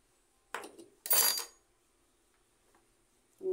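A spoon scrapes and clinks against a metal pan while sugar is stirred into water for a sweet syrup, giving two short, bright bursts close by. A fainter clink follows after a pause.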